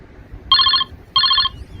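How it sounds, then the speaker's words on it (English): A telephone rings in two clear bursts of electronic trilling, each about two-thirds of a second long, heard alone over a low background hum while a video game is being played. "Oh, somebody's calling."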